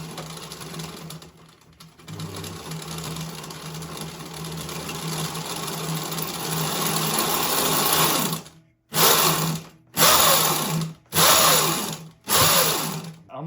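A MotoTec electric bike motor with a new chain whirs steadily on throttle, then cuts in and out in four short high-pitched bursts separated by brief silences, loud and close.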